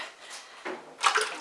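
Hot process oatmeal, honey and tea tree soap mixture poured back into a pot, a soft wet splashing pour that swells briefly and then picks up louder near the end.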